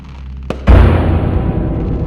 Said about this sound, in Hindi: कुछ बच्चे पटाखे भी जला रहे हैं।